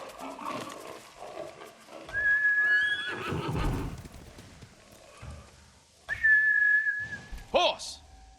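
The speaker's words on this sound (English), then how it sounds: "Horse!" Horse in Ghost of Tsushima gives two loud, close whinnies, a long one early and another near the end, with a shrill high squeal; hoofbeats and game ambience fill the gaps.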